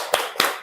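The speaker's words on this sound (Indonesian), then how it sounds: "Baik, anak-anak Bapak, ya, tepuk semangat." Primary school pupils in a classroom clap a rhythmic spirit clap: two sharp, close hand claps spaced about a quarter second apart, then fading quiet.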